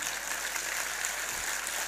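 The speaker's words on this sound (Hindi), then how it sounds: "अगर अच्छा लगा तो तालियां बजा दे" Steady crowd applause at a shayari poetry recital, a broad wash of many hands clapping evenly at moderate volume, continuous for the full stretch with no voices over it.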